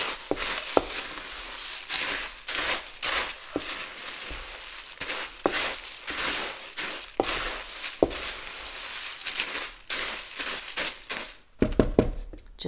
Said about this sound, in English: Just give them a mix.